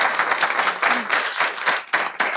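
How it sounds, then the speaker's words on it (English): An audience applauds after a talk on product and cameras, steady, dense clapping from many hands in a room, loud and continuous with slight swells, with no voices over it. "there's been more applause in this talk than any other talk"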